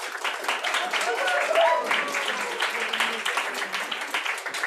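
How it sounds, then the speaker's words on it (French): Audience applause at an evening talk on cycling in Sherbrooke, a moderate, even patter of clapping under a voice that speaks through it, fading slightly toward the end. "merci, on applaudit un petit peu"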